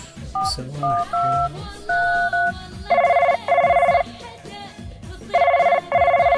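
A telephone keypad beeps through a run of dialing tones, followed by loud, evenly spaced bursts of electronic ringing, with a few faint background sounds between them.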